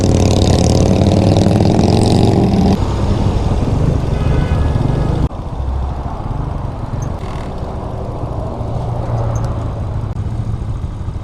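A Hawk DLX motorcycle (the DLX Rocky) running close by, a steady loud engine drone with shifting tone and a brief rise, staying continuous throughout with no talk.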